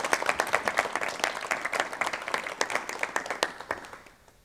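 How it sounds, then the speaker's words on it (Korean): Studio audience in a 1986 Korean television talk show applauds to welcome a professor guest, a crisp run of many hands clapping at moderate level that tapers off at the end. "박수로 맞이해 주십시오."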